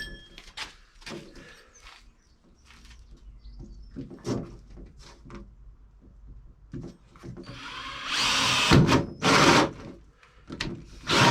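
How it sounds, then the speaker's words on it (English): Short bursts of a power drill whirring into material, several separate runs with pauses and handling clatter between, growing louder toward the end. "let's crack on and drill a few"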